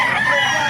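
A golden Henny rooster crows at a gamecock market in Bocaue, Bulacan, giving a loud, close, sustained burst with no pause.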